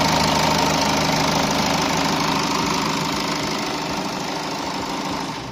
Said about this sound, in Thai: ตอนนี้เครื่องยนต์สามารถติดได้แล้วนะครับ